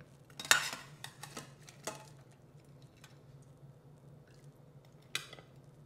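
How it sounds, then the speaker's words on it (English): Loukoumades, Greek donuts, are tossed around in syrup in a metal bowl or pan, producing a few sharp metallic clinks and taps with quieter soft scraping between them, close and sparse against a low background hum. "go ahead and toss them around in the syrup so they can get nice and soaked and get all that flavor"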